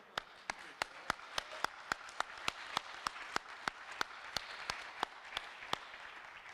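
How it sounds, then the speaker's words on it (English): Audience at a conference closing session claps in a steady, rhythmic unison beat, about twenty sharp evenly spaced claps over a soft room hubbub. "You burn 10 calories per clap."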